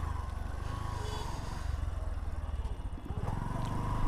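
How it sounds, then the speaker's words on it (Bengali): A motorcycle is ridden along a market road, its engine putting out a steady low throbbing drone with slight rises in revs, heard close from the rider's position with rushing wind. "একটু জোরে জোরে চালাবো বাইকটা"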